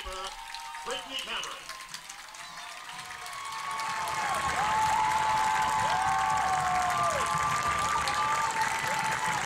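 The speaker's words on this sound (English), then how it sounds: "And a nice round of applause." Crowd applause rising at a women's professional soccer match in a stadium, Sky Blue FC against Boston Breakers, building to a steady broad roar of clapping and cheering as a player leaves the field, with faint whistle-like tones over it.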